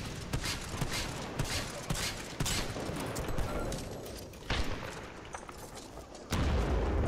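Heavy Kraber sniper rifle fire in a Titanfall 2 capture-the-flag match: repeated sharp, loud gunshot cracks scattered through a dense, busy battle, with other gunfire and game noise around them.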